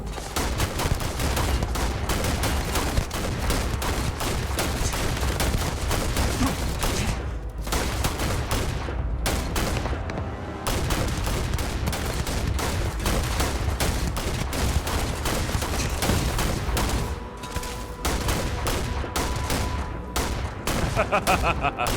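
Rapid bursts of weapon gunfire in a Starfield firefight on Mars ring out almost nonstop, dense and loud with brief pauses, while a player occasionally talks over the shooting.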